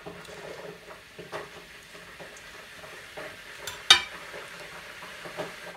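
Quiet sizzling of meat in a hot pan as a little water is added, with soft stirring and clinks of a utensil and one sharp scrape or hiss near the middle.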